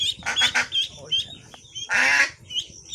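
A mother duck gives loud, harsh honking calls while trying to free her duckling from a person's hand: a rapid cluster of squawks, a pause, then another strong burst up close, with scattered fainter calls around them.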